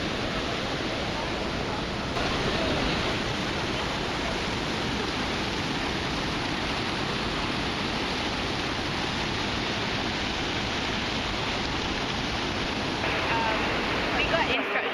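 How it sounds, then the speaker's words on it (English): Rainforest waterfall on a jungle trail, heard as a steady, loud broadband roar of falling water filling the whole stretch without letup. "Second waterfall."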